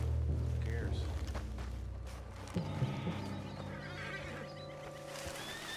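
Spooked horse in the Western video game Red Dead Redemption 2 gives a short whinny amid hoof clops, game music and other sounds, mixed under a speaking voice.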